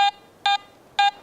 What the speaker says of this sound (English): Then the iron nail. Stronger response, medium tone.